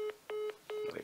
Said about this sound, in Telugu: కాల్ ఫెయిల్ అయింది.